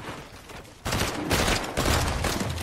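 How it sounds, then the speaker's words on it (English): Rapid bursts of video game gunfire, loud and dense, jumping up sharply partway through and continuing as a sustained barrage of overlapping shots. "Oh, this shooting."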